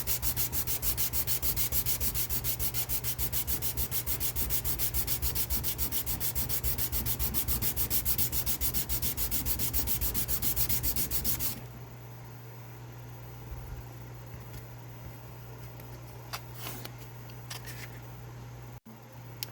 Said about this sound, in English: we laid this on our table and we sanded